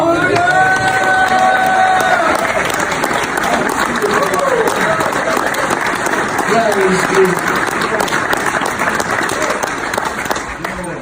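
A church congregation claps loudly and steadily throughout, with cheering and raised voices mixed into the dense, continuous applause, which fades slightly at the end.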